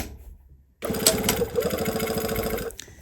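A sewing machine stitches a welt seam on a vest, starting after a short pause with a loud, rapid mechanical whir and rhythmic needle chatter that runs steadily for about two seconds before stopping.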